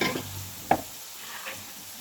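Green chillies, onions and tomatoes fry with masala and ginger-garlic paste in a pan, a soft steady sizzle with one sharp scrape of a spoon and a fainter stir after it.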